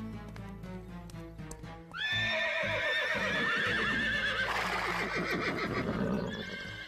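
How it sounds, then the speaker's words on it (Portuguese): Horses neigh loudly in an animated episode, a long, rising whinny that carries for several seconds over a background of music and clip-clopping hooves. "esses cavalos estão barulhentos por algum motivo."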